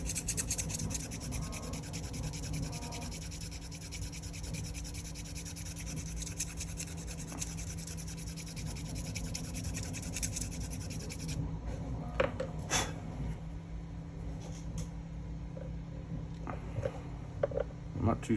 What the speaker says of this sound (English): I'm gonna file it down until it feels real nice and smooth now